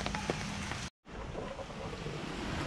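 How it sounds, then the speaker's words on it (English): Light, steady rain falls outdoors on a fence and gate building site, a continuous soft hiss of drizzle with a brief dropout near the middle. "It's been raining, not really hard, but consistent."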